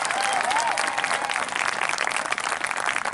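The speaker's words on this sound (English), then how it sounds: "Let's give her a big round of applause." A large crowd at the 2021 Peekskill High School graduation claps loudly and continuously, a thick wash of applause that keeps going for the full stretch.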